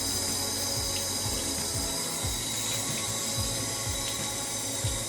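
Steady rush of running water from a tap while hair is washed, a constant close hiss with faint irregular splashes and no talking.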